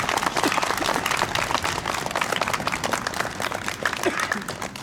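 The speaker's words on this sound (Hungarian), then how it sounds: "Én azt gondolom, hogy egy tapssal mindenki megköszönheti ezt." Applause from an audience at an Advent candle-lighting gathering honouring the first honorary citizen of Homoród, dense steady clapping filling the whole stretch at close range.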